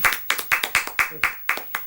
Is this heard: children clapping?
yes